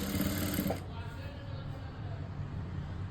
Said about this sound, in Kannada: ನೋಡಿ ಈ ರೀತಿ ನೀಟಾಗಿ ಸ್ಟಿಚ್ ಹಾಕ್ಬಿಡಿ